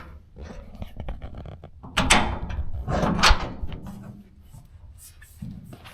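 Metal latches clicked into place on a clean 1964 Chevrolet C20 pickup, a few close knocks and clunks with handling noise, one louder thump in the middle.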